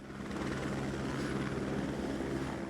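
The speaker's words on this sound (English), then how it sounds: "I'm sorry, the helicopters are too loud." Helicopters flying overhead in New York City make a steady, low rotor drone, a faint continuous wash of sound from above with no voices.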